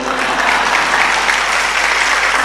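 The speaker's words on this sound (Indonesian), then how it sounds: "tepuk tangan, enggak usah malu-malu" An audience claps at a religious lecture, a dense, steady round of applause from a crowd that stays loud and even throughout, with no voice over it.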